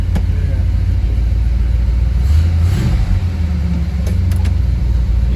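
LS3 V8 engine idling in a 1970 Chevelle, a steady deep rumble close by with a slight swell in the middle, while people talk over it.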